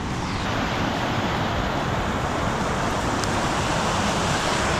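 A river flows below waterfalls in a wooded valley strewn with storm-fallen trees, making a continuous loud, dense roar of rushing water with no voices.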